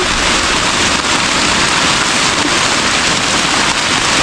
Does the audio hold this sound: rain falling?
yes